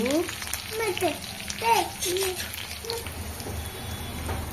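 Cumin, mustard seeds, green chilli and curry leaves crackle and sizzle in hot ghee for lemon pulihora, a busy close frying hiss running under voices talking throughout.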